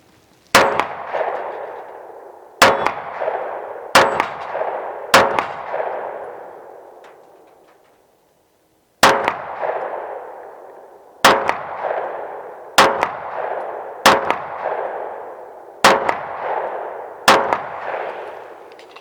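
A Springfield XD Mod 3 9mm pistol fires single shots at steel targets outdoors, ten loud sharp reports at a steady pace, each followed by a ringing clang of struck steel that fades, with one longer pause midway.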